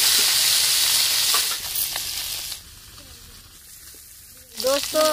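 Small fish sizzling in hot oil in a village-style kitchen: a loud, steady frying hiss that fades after a couple of seconds to a quieter simmer, with a voice speaking briefly near the end.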